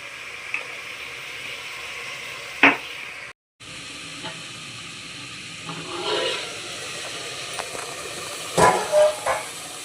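Tomatoes soften in a pan for chicken curry, giving a low, steady sizzle with soft hissing steam, a few sharp clinks and scrapes of a spoon against the pan, and a short gap partway through.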